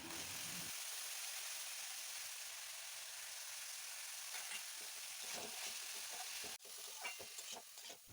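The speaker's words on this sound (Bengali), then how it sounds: "এবার সিদ্ধ করে রাখা থোড়টা মা দিয়ে দেবে।" Boiled banana stem tossed into a hot spice paste in oil during home Bengali cooking, a loud steady sizzle and frying hiss with stirring scrapes, rising in bursts near the end.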